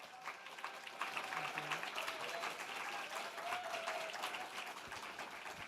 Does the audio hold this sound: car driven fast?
no